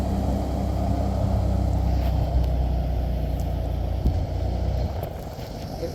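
A vintage Toyota Land Cruiser FJ62 drives in with a steady low engine rumble throughout, fairly close and constant in level, with some wind buffeting on the microphone.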